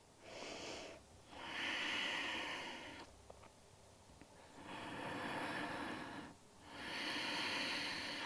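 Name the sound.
deep breathing during yoga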